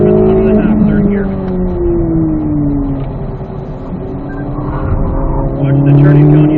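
A Chevrolet Corvette C8 Z06 pulls through third gear on the Spring Mountain circuit, its engine droning loudly, dipping slightly mid-run and swelling again toward the end, while an instructor talks throughout.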